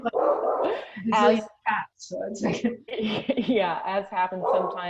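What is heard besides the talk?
dog barking in the background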